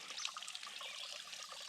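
A small, trickling waterfall running low after a dry spell gives off a soft, steady bright splashing, faint and continuous for a brief moment.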